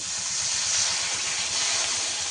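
Water hits Bengali fish curry masala frying in a pan, with coriander and chili spices. It makes a loud, steady sizzling hiss that holds on without a break.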